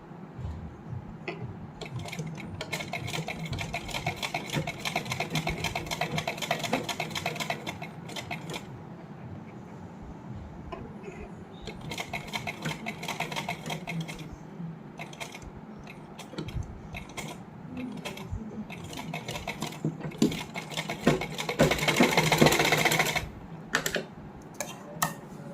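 A sewing machine stitches the inner lining onto a heavily hand-embroidered suit, running in steady mechanical bursts with short pauses between them, close and fairly loud, with no talking.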